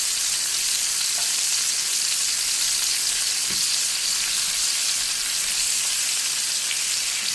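Butter melting around a bone-in pork chop in a hot pan gives a loud, continuous sizzle and crackle that holds steady throughout with no voices.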